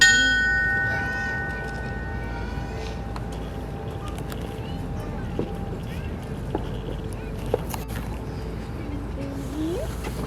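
A single memorial bell strike rings out at a firefighters' remembrance ceremony in Edmonton, its tone fading slowly over the first seconds before a quiet, hushed outdoor ambience with faint scattered noises.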